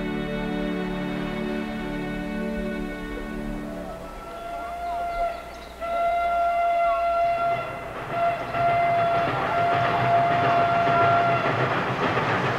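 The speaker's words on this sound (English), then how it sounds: "Do you think the train's going to wait for you?" A steam train sounds a long, loud whistle that sustains for several seconds and rises again, while the rumble and clatter of the railway cars run beneath it.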